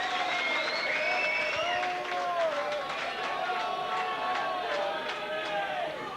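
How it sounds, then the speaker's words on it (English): A rugby league crowd at Rochdale versus Leeds in 1991 cheers and applauds continuously after Rochdale take the lead, a loud, sustained roar with whistles and shouts, while a commentator talks over it. "You know the cheers of the crowd around me."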